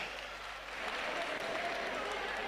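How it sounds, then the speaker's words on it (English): Crowd applause at an MMA fight night, a steady wash of clapping and cheering from a large audience that holds at a fairly even level throughout. "Give Castro a round of applause, please."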